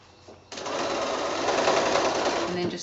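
A sewing machine stitches binding onto a woodland patch quilt, starting abruptly after a quiet moment and then running as a steady, close, continuous whir to the end.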